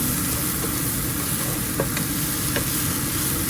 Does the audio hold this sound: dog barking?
no